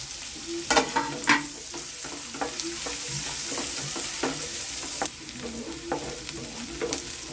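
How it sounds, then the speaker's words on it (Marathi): Chopped onion sautés in oil in a pan until reddish, a steady close sizzle broken by spatula scrapes and stirring clatter, with no talking over it. "कांदा जरा लालसर होईस्तोवर परतून घ्यायचा।"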